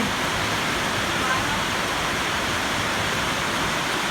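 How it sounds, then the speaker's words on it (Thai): Heavy rain pours down in a steady, dense hiss that fills the whole stretch evenly, loud and close with no letup. "เดี๋ยวฝนใกล้จะซาแล้วนะครับผม"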